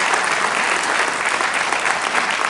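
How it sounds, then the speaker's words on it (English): Dense, sustained applause from an audience at a school-hosted annual homeowners' meeting at Lafayette High School, loud and even throughout, with no voice over it. "I'd like you to join me in a round of applause for our host"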